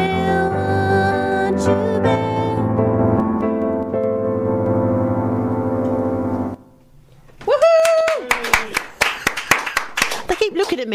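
Sharp hand claps ring out in a Phoenix FM radio studio during a live session, a burst of separate, close claps following a sung passage and a brief lull, with talking mixed in.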